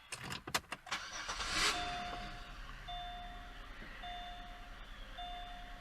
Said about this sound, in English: Now you can start the vehicle.